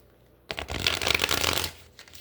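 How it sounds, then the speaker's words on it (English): A quick riffle of tarot cards being shuffled, a crisp flurry of papery flutters lasting about a second, close and fairly quiet. "You guys see how I shuffle."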